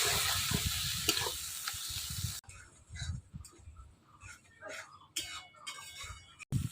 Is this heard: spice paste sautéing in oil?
yes